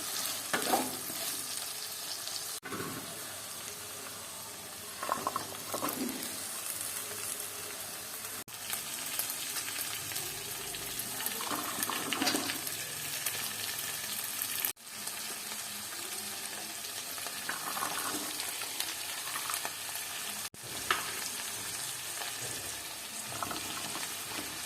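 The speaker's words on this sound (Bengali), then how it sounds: "আলুগুলোকে হালকা ভেজে নেব।" Potatoes fry lightly in a pan after onions, making a continuous close sizzle broken by scraping stirs and clattering pan knocks at intervals, with no one talking.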